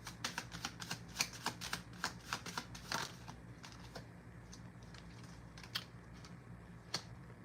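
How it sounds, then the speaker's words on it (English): Tarot cards drawn from a deck make a quick run of crisp, close snapping flicks in the opening seconds, then a few scattered card taps over a quiet room. "let's pull just one more card from this deck"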